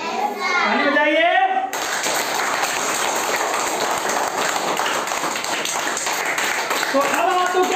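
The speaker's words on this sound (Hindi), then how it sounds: "ताली बजाइए।" Children in a classroom clap together in a sustained, lively burst lasting several seconds, preceded by a teacher's voice, with a voice rising at the end.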